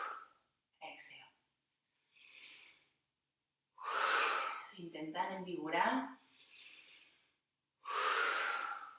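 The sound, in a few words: deep pumping breathing during yoga session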